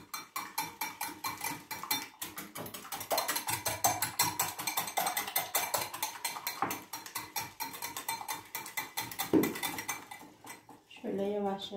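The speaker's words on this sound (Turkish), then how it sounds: "Şöyle yumurtalarımı bir güzel çırpacağım" Eggs are whisked in a bowl with rapid, rhythmic clinking and tapping against the sides, close and continuous, while someone talks over it.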